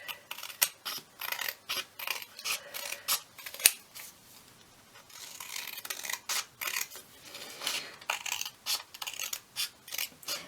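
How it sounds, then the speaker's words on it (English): Scissors trim the edge of a printable paper tag in a run of quiet, crisp snips, close up, with a short pause partway through before the cutting resumes. "Let's just trim this off to the edge."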